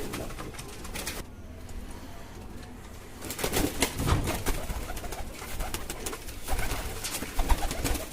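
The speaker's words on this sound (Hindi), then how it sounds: "ले दोस्तों, एक और कबूतर भी मेरे हाथ में आ गया अब।" A pigeon held in a hand gives soft, low cooing, with faint rustling and brief wing flutters, close and fairly quiet against steady outdoor background noise.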